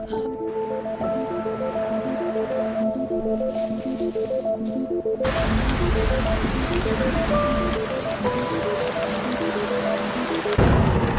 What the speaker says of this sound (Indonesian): Malam harinya di sana Jen harus bertahan dari badai besar yang menerpa pulau itu.